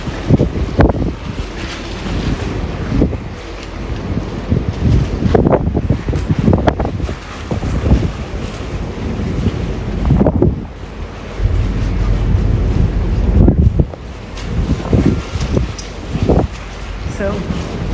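Strong wind roars and buffets the microphone on the open deck of the Norwegian Jewel cruise ship underway at sea, a loud continuous rumble with gusty swells throughout and faint voices partly buried beneath it.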